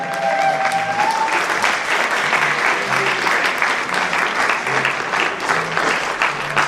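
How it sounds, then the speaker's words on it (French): Loud, sustained applause from an audience at a French-language charity association event, dense continuous clapping throughout with a faint tone and some low murmuring underneath. "Merci pour vos applaudissements."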